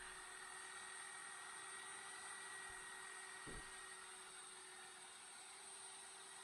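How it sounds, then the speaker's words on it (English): A handheld electric mixer whirs steadily as it grinds a stucco paint mixture for Venetian plaster, a continuous droning motor hum with a brief thump midway. "This handheld mixer to grind it"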